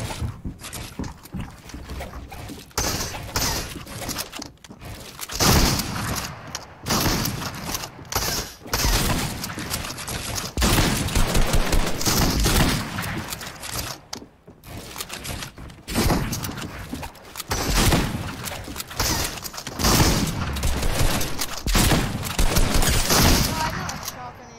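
Fortnite gunfire rings out in rapid bursts and sustained volleys across the stretch, loud and close, with players talking over the shooting throughout.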